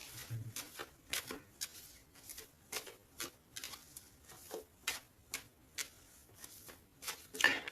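A deck of tarot cards being shuffled and cut, a steady series of soft, close, crisp riffling snaps and taps spaced roughly half a second apart.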